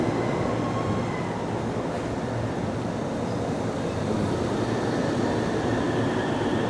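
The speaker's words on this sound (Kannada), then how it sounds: "ಬಂತು ನೋಡ್ರಿ ಟ್ರೈನ್ ಬಂತು." A train with an aluminium body pulling into a station near Mount Fuji in Japan, a loud steady rumble of wheels and motors that fills the scene without a break.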